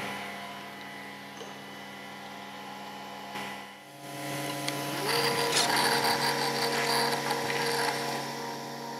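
A Festool Conturo KA 65 handheld edge bander runs as it applies edge lipping: a steady mechanical whir with ratcheting, clicking feed noise that swells louder partway through and stays busy to the end, with no talk.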